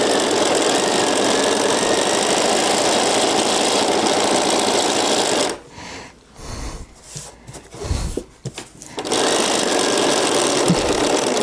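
A sewing machine stitching fabric un-paper towels runs loud and steady, with its motor hum breaking off into a few short bursts and pauses before resuming a continuous whir.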